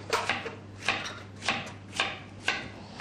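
A knife chops an apple into small cubes on a cutting board, five crisp, evenly spaced taps, close and fairly quiet over a low steady hum.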